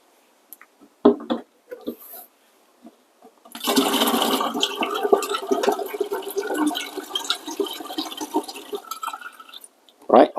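Water pours steadily through a funnel into an espresso machine's water tank for several seconds, a splashing rush preceded and followed by brief knocks and handling sounds.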